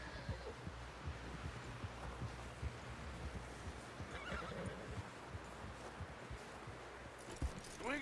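A horse whinnies in a Wild West video game amid a dense, noisy background of rumble and movement, with hoof-like knocks scattered throughout.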